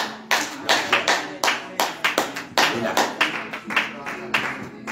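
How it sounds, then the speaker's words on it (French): A church congregation at a morning prayer service applauds, with bursts of clapping that rise and fall in several waves and voices mixed in among the hands. "Acclamons."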